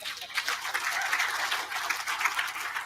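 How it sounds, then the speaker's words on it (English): An audience at a summit gives a short burst of applause for a panel, with moderate and fairly even clapping that lasts only a few seconds. "Please, please, please give a warm applause to the panel"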